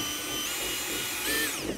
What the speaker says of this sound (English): I'll just take my 1/4-inch drill